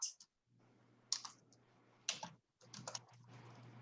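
Short bursts of typing on a computer keyboard during a QuickBooks session, quiet clustered key clicks with pauses between them and a faint steady hum underneath.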